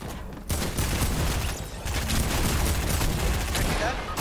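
Rapid gunfire from a shotgun battle in a competitive online shooter match, dense and loud bursts running almost continuously after a brief quiet start, with players talking over it.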